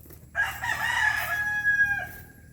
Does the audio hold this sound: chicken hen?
yes